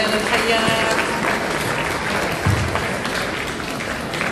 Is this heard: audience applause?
yes